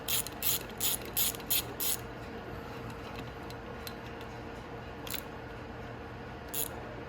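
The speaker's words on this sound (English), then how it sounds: "Put this bolt all the way down in so I can tighten the cylinder down a bit." Ratchet clicking in quick bursts while tightening a cylinder bolt on a Venom X22GT 250cc automatic motorcycle, several rapid ticking runs early, then a few isolated clicks over a quiet background.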